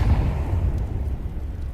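A grenade detonates in a Counter-Strike match during a professional esports quarter-final, a dense low boom with rumbling tail that fills the short moment on its own, no talk over it.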